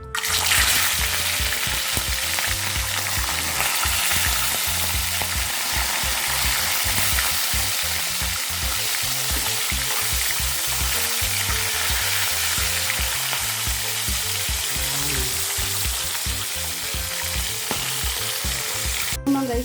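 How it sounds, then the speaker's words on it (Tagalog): Galunggong fish frying in hot oil, a steady dense sizzle and crackle running loud and close throughout, with a low rhythmic pulsing underneath, likely music. "habang nagluluto tayo ng ginataang kalabasa, ipiprito naman natin yung ating isda"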